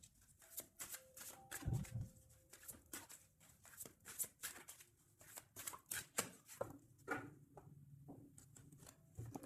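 A deck of cards being cut and shuffled, soft papery riffles and taps in an irregular rhythm, faint and close in a quiet room.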